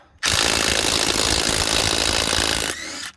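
A Dewalt brushless 20-volt impact wrench loosens bolts in one loud, sustained burst of rapid hammering, close and continuous for about two and a half seconds before cutting off.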